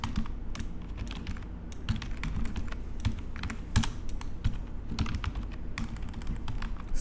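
Steady clatter of computer keyboard typing while code is written for a Laravel web project, with irregular quick keystrokes and occasional heavier key presses, close and alone without speech.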